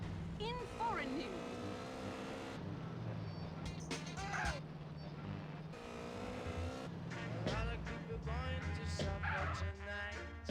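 A car engine in Grand Theft Auto, played on a Steam Deck, revs and shifts through gears as the car drives, with squealing tire sounds and a voice talking over it.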